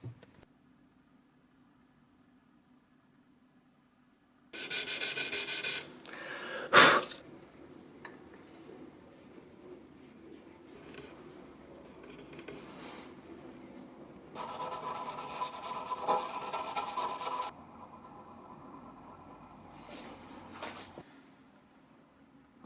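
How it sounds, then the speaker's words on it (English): Shellac being rubbed by hand onto a wooden chip-carving knife handle, giving bursts of soft, close scratchy rubbing strokes separated by quieter pauses, with no talking. "here I'm applying a few more coats of shellac"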